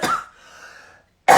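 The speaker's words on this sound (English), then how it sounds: "I'm going to cough again." A single close cough with a raspy exhale trailing off, followed by a short pause and the start of another sharp burst.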